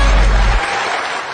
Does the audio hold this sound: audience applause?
yes